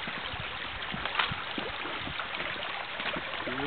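Small stream running beside a walking trail between Sarria and Portomarín, a close, steady gurgle and trickle of water with scattered splashes and no talking.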